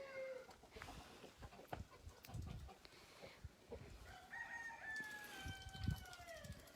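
Chickens cluck and a rooster crows in the main part of a farm feed shed where kittens also live, with scattered bird calls over low background noise.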